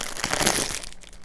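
Thin plastic wrapping crinkles and crackles in a brief close-up burst as a red bean bun is unwrapped.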